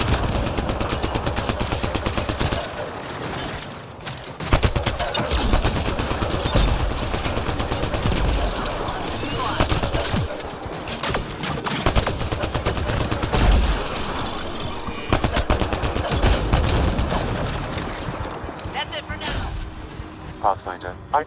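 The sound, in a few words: gunfire in video game Mass Effect: Andromeda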